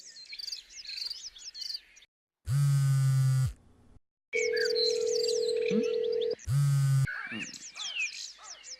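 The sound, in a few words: phone call ringing unanswered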